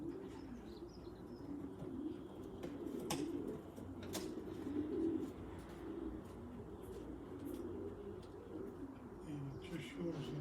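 Racing pigeons cooing at the loft, soft low coos repeating under a faint outdoor background with a few brief clicks and distant sounds.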